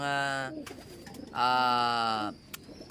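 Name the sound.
birds calling near a fishpond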